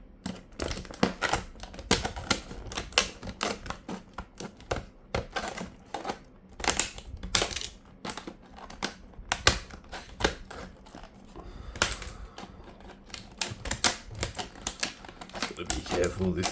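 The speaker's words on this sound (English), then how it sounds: "This plastic is always really tough to get through, so we'll give it a bit of a chop." Tough plastic packaging of a Master Lock 5406D portable key safe is hacked apart with a rapid, irregular run of sharp cutting clicks and snips, close and crisp throughout.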